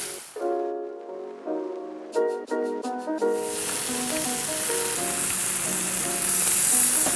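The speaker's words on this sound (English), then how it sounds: "I'm sort of fishing out the thick pieces and frying them" A few tones ring out, then salmon pieces hit a hot pan and loud, steady sizzling and crackling of frying takes over.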